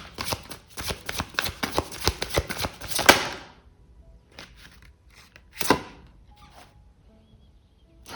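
Oracle cards being shuffled by hand, a rapid run of close crisp riffling flicks that stops, followed by a few softer isolated card slaps and quiet pauses.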